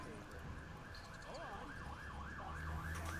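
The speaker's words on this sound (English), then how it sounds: "What the crap is with the sirens?" An ambulance siren wails outside, its rising and falling tone sweeping repeatedly at moderate distance over a steady low rumble of background noise.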